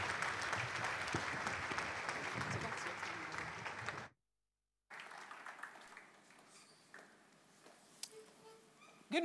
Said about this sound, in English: With a warm applause, please.